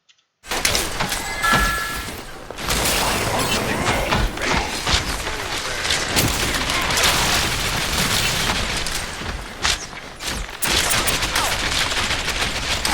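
Dense gunfire and explosions from the video game Overwatch, a loud continuous barrage of rapid shots and booms with brief gaps, close and filling the whole stretch without talk.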